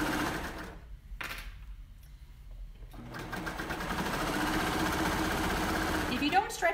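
A sewing machine stitches binding onto a cardigan with a close, steady motor hum that builds after a brief pause, while someone talks over it.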